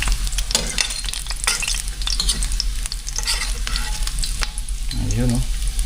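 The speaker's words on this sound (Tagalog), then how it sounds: "Luto na po itong ibang isda. Ayan, haluin na po natin para makapag-gisa na po tayo." Fish fries in oil in a pan while being stirred, with a loud continuous sizzle and repeated scraping, clattering strokes of a utensil throughout.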